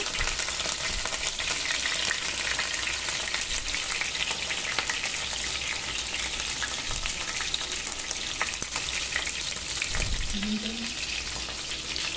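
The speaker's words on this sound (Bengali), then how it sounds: "দেখো এক পিঠ হয়ে গেছে উল্টো পিঠটাও দিয়ে দিয়েছি ভাজার জন্য" Chicken pieces deep fry in hot oil for honey chicken, a dense, loud, unbroken crackling sizzle that carries evenly through the whole stretch with a brief thump near the end.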